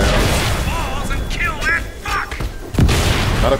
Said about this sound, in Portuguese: quando eles começam a mandar esse rojão, é a vida toda